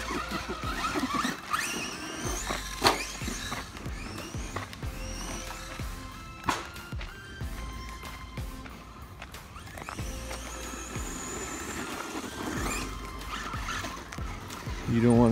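A Pro-Line PRO-MT 1/10 4WD RC monster truck with a roughly 2,000 kV motor on a 2S battery runs around a BMX track, its motor whining and tires scrabbling and skidding in bursts under ongoing talk.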